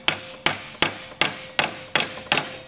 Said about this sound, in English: Tap it with a hammer a little bit